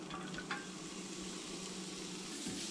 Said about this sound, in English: We're going to put them in our pan, saute them up till they're a little bit soft